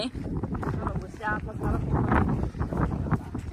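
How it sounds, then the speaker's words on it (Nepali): Cold wind gusts across the microphone on a Hong Kong hiking trail, a low rumbling buffet that swells and fades, with voices talking over it. "ओ माई गॉड चिसो हावा"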